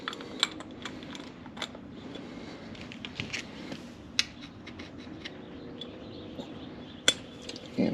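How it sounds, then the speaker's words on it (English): A carburetor float bowl being fitted back on during float adjustment, heard as close, quiet metallic clicks and taps of light parts spread over several seconds, with a few sharper clinks. "Let's put our bowl back on."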